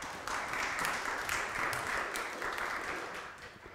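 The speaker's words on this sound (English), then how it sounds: "please give her a round of applause" An audience at a tech tutorial session applauds as a Google speaker is introduced, a steady crowd clapping with a slight pulsing rhythm that eases off toward the end.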